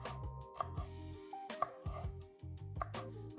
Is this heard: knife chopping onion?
yes